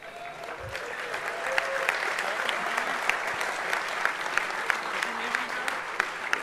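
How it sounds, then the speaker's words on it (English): Hall audience at the DEFCON 20 hacker convention closing ceremony claps steadily, a broad, moderately distant wash of applause with sharper individual claps popping through, and brief voices underneath. "They were clapping you."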